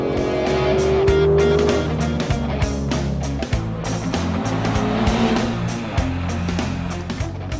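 Aston Martin DB11 with a V12 engine pulling hard under acceleration, a loud continuous engine roar with a rising tonal note, steady and close with no talk.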